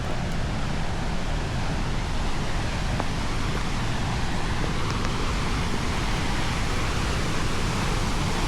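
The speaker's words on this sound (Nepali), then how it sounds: "बीच बाटोमा एउटा झरना रहेछ, त्यो हेरौँ" A roadside waterfall near Mount Rainier roars as a dense, steady rush of falling water, loud and unbroken, with no other sound rising above it.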